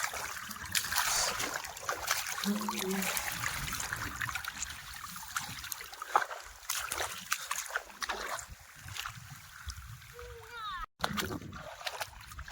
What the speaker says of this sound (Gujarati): પાણી પહોંચી ગયું છે જો પાણી આવી ગયું હવે કમ્પ્લીટ પાણી આવી ગયું